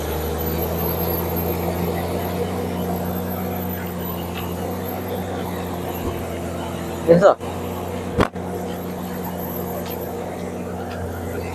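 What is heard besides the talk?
TATA Prima truck engine straining uphill in mine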